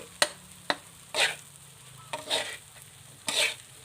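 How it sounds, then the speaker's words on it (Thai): Fried rice with fermented pork sausage being stir-fried in a hot wok, with sharp metal spatula scrapes and clacks followed by short sizzling tosses, repeated several times at an uneven pace, close and moderately loud. "แล้วก็ค่อยๆคลุกนานๆนะให้มันมีกลิ่นกระทะติด ข้าวผัดอยู่ว่าใช้ความร้อนจากกระทะผัดไปเรื่อย ๆ"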